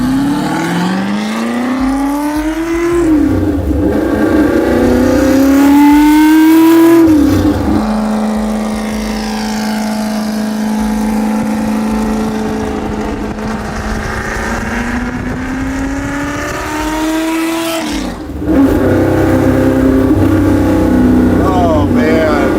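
A Ford Shelby GT350 driving through canyon roads revs hard, its engine pitch sweeping up and down through several loud, close acceleration pulls with wind noise, while people in the car talk over it.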